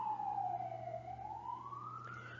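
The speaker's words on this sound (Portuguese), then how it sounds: "Deixa passar a ambulância." An ambulance siren wails in a single slow falling then rising sweep over a low steady engine hum, moderately loud and unaccompanied by voices.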